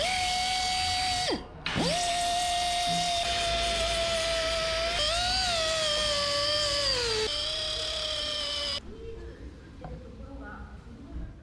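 An electric grinder on a low-cost lowrider bike build runs loud and close for several seconds, its whine dipping briefly as it bites and shifting pitch under load before cutting off and leaving only quiet workshop noise.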